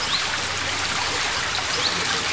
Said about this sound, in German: Dieser Bach könnte trinkbar sein.